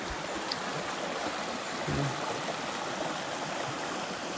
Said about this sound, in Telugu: చూడండి నీళ్ళు మాత్రం భలే పారుతూ ఉన్నాయి.